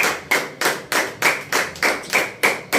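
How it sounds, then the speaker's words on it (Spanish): In church, slow, evenly spaced claps ring out at a steady beat, each one sharp and reverberant, as the congregation applauds in unison after a sermon. "Damos un aplauso a Dios"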